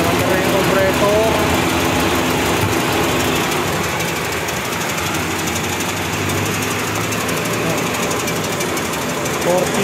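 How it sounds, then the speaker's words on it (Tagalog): The air-conditioning compressor of a Mitsubishi Lancer runs under an idling engine, giving a loud, steady mechanical drone with rapid rattling pulses, close by, while people talk indistinctly over it. "Mandar na yung compressor natin."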